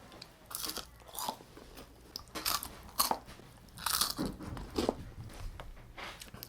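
Crispy homemade thick-cut fries bitten and chewed up close, a series of sharp crunchy bites with loud crackling chews spread unevenly across the moment.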